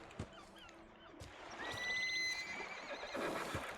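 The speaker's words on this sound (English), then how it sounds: "Hey, horse. A horse is a horse, of course, of course." A horse in the PC game Might & Magic X gives a clear, fairly loud whinny over a backdrop of hoof clip-clops and faint ambient game sound.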